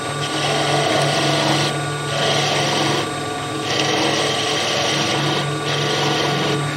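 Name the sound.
wood lathe turning wood with a skew chisel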